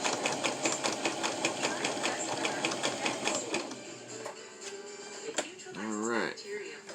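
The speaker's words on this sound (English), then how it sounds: "go ahead and do a zigzag stitch, get it started" Sewing machine running a zigzag stitch on a fabric mask, a fast steady mechanical chatter for several seconds that then slows and stops, followed by a person talking nearby.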